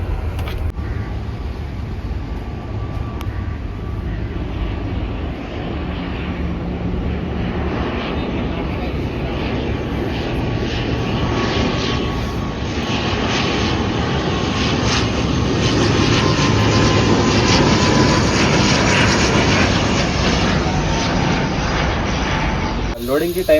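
Airplanes fly low near an airport with a loud, sustained engine roar that swells gradually and stays dominant throughout, heard from close by with talk beneath.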